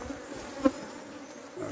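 Angry Africanized honey bees swarm around an opened, smoked hive, making a faint, continuous buzzing drone with one brief louder pass partway through and no talking.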